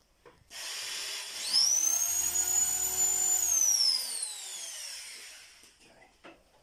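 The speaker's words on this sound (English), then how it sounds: "This time he's drilling the screw in" A power drill drives a screw while a DIY succulent wall garden is assembled, a single whining burst that rises in pitch, holds for about three seconds and winds down, close and alone.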